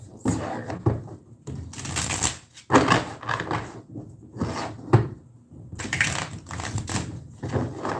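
A deck of tarot cards is shuffled by hand close up, giving repeated bursts of papery riffling and slapping separated by short pauses.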